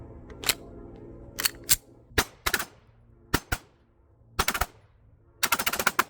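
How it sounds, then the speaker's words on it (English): A Cosaint Arms COS21 double stack 1911 pistol fired at the range: sharp, loud shots in uneven bursts of singles, doubles and a final rapid string of about six, with short echoes between them. "This really is one of the nicest shooting pistols I've ever shot."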